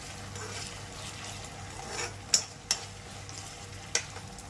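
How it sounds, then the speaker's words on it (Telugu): Crushed green chillies frying in a pan while being stirred, a faint steady sizzle with a few sharp scraping clinks of the spoon, close by and without talking. "ఇప్పుడు ముందుగా మనం దంచి పెట్టుకున్నటువంటి పచ్చిమిర్చిని కూడా యాడ్ చేసేద్దాం. ఇలా ఒక 2 మినిట్స్ అయితే కలుపుతూ ఉండండి."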